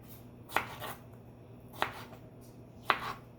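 Knife chopping rhubarb on a board for a strawberry rhubarb crisp, three separate crisp cuts spaced about a second apart over quiet room tone.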